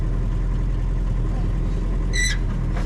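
Willys Jeep engine droning steadily during a hill start, a loud low rumble throughout with a brief high squeal near the end, close up inside the vehicle.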